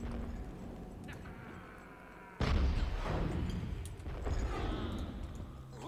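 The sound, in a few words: cannon firing in a video game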